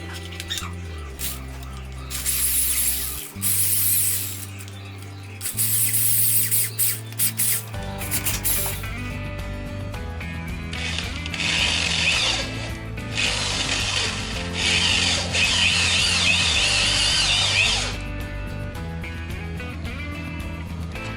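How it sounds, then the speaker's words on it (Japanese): Electric drill boring 7 mm holes in a disassembled Honda Super Cub body, with bursts of whirring motor and bit grinding into metal, pauses between runs and clanking handling sounds, close up. "じゃあねドリルでやっていきます。"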